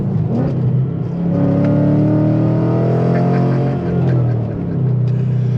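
A Ford Coyote V8 engine revs hard and climbs in pitch, holding a loud, smooth roar before easing off, close by with no voices.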